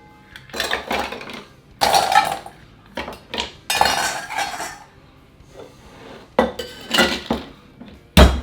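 A cocktail shaker is shaken hard during the making of a coconut rum cocktail with pineapple and coconut. Ice rattles and clinks in loud, rhythmic bursts broken by short pauses.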